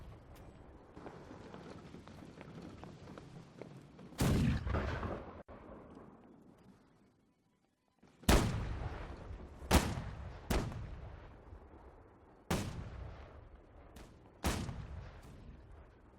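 Naval cannon fire in the game Holdfast: Nations At War during a ship battle, a series of loud, sharp booms with rumbling decay, about six blasts spaced irregularly over a low background of distant noise.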